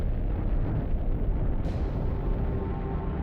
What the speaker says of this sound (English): This is a gamma-ray burst, the biggest explosion to rock the universe since the Big Bang.